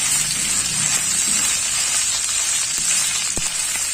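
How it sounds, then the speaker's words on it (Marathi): Ginger and garlic frying in a pan for a spicy raw banana dish give a continuous hissing sizzle with a few faint utensil taps, close and steady, no speech. "हे अद्रक लसूण पण छान शिजू द्यायचं याचा उग्रपणा नाहीसा होतपर्यंत याला शिजू द्यायचं"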